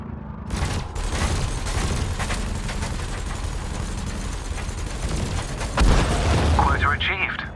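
Ship lasers and cannons fire in Elite Dangerous, a sustained loud barrage of blasts and rumbling booms with a heavier impact near the end, amid game sounds.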